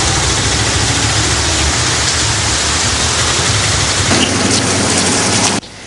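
Heavy monsoon rain in the Ratnapura area of Sri Lanka during flooding pours as a loud, steady downpour hissing close by, then drops off sharply just before the end.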